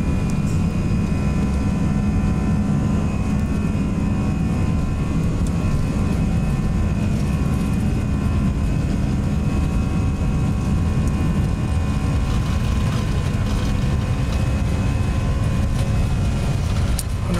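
Engines of a Toliss A319 airliner in X-Plane 11 spool up for takeoff at London Heathrow, a loud, continuous jet roar with a steady low rumble and whining tones heard without speech.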